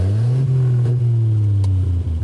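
Bentley 3.5 Litre inline-six with its exhaust flaps opened gives a deep, steady, loud rumble that swells slightly in pitch and then holds, close by and alone.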